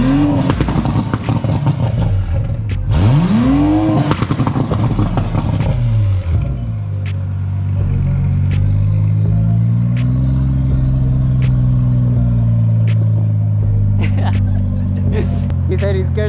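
A tuned BMW M340i engine revs and rumbles loudly up close, with sweeping rises and falls and sharp pop-like clatter, while people talk over it throughout.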